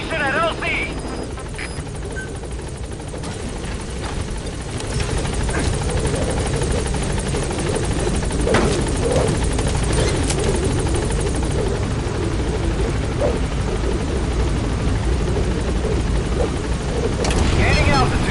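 Pequod, the transport helicopter in Metal Gear Solid V: The Phantom Pain, holds a steady loud rotor drone throughout, with a radio voice talking over the constant thrum.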